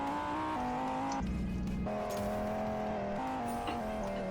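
A Lamborghini Huracan Evo supercar drifts with a steady engine drone and sustained tire squeal, its pitch stepping and shifting as it slides, heard at moderate distance with no talking.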